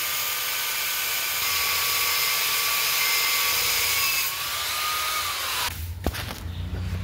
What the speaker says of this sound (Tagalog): So, i-cut na itong springs karon guys. Gamit ako grinder.